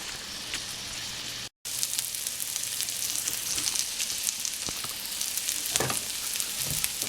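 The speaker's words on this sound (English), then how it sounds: "let this stuff saute down and get soft" Peppers and onions sautéing in a pan, a loud continuous close sizzle with a brief dropout and a few clinks of stirring.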